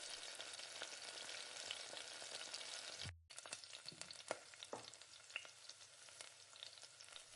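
Ginger, garlic, chana dal and urad dal sauté in oil for mint chutney, making a continuous crackling sizzle. It drops out briefly for a moment, then returns with stirring clatter. There is no talk.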